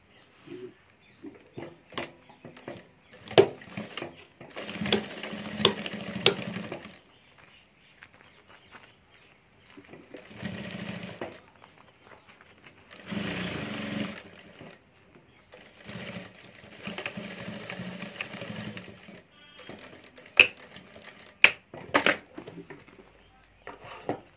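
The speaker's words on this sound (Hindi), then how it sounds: "यहाँ से हमें साइड में सिलाई कर देनी है। तो यहाँ मैं साइड में सिलाई कर देता हूँ।" Sewing machine stitching the side seam of a ladies' fabric wallet, running in several close, rapid bursts of a few seconds each, separated by pauses with light handling clicks.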